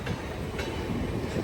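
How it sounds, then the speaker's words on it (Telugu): The Tirumala Express sits at a railway station platform, giving a steady low rumble of train noise with a faint clatter and one brief metallic tick, heard without talk. "ఇప్పుడు తిరుమల ఎక్స్ప్రెస్ అయితే ఉంది ప్లాట్ఫామ్ మీద"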